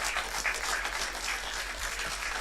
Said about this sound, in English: look at this fucking polite golf clap